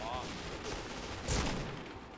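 An M4A1 rifle in the game Point Blank fires one short, quiet burst midway through, set against faint background noise.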